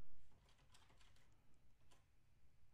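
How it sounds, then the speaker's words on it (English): Typing an email address and password on a computer keyboard, a quick run of soft key taps with a few brief pauses, close but faint, no talking. "I'll go ahead and authenticate and type in my email address like so."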